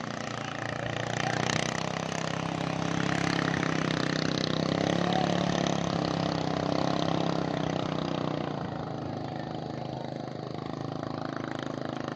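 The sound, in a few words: engine breaking in new piston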